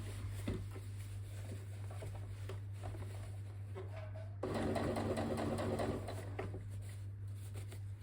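A sewing machine stitches a seam on a workwear jacket, with a steady mechanical hum and a fast patter of the needle that grows louder and busier partway through, close up and without talk.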